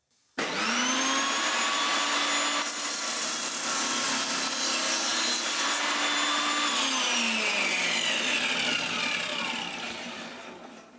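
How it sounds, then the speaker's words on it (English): A table saw cutting a dado through wood in a workshop: the blade spins up with a sudden loud whine, then holds a steady high-pitched roar through the pass, with the pitch sagging slightly under load before winding down, close and alone. "All we need to do now is pass the saw through and make that cut."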